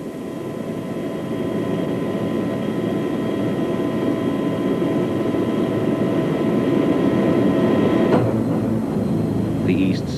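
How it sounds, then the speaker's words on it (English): An East German helicopter flies over the Berlin Wall in 1989, a steady, loud droning rumble with a sharp change near the end. "The East's chopper, warning us off."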